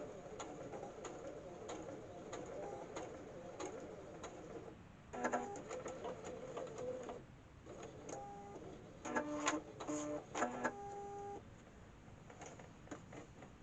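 A sewing machine stitches a wrist pin cushion in short, quiet mechanical runs. A soft whirring hum rises and falls over a faint background.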